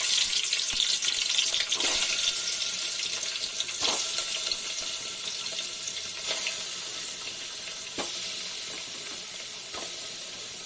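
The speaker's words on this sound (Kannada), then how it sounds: "ಚಿಕನ್ ಚೆನ್ನಾಗಿ ಫ್ರೈ ಆಗಬೇಕು" Country chicken pieces frying in a pan of hot oil give a steady, loud sizzling hiss, with sharp pops and crackles breaking through every couple of seconds.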